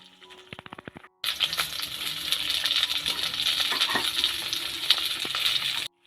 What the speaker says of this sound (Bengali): এবার এই ক্যাপসিকাম আর পেঁয়াজটাকে একটু হালকাভাবে ভেজে নেব, যাতে কাঁচা ভাবটা না থাকে